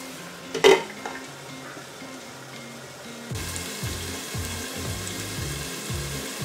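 A chicken roast cooks in a covered pan, first a sharp clank of the lid, then a steady low sizzle and bubbling that grows a little louder and carries on evenly, with no voices.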